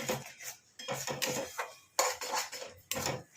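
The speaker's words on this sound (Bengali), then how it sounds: "এই কড়ার গায়ে লেগে থাকে, এগুলোকে সব ভালো করে কেকে নিচ্ছি" A spatula scrapes stuck fish off the sides of a kadai, making a series of short, close metallic scraping strokes with brief pauses between them.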